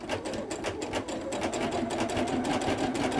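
A sewing machine hums steadily while sewing a back-and-forth stitch on stretchy knit fabric, with a fast, even needle rhythm held up close for the whole stretch.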